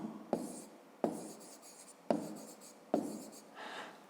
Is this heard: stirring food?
no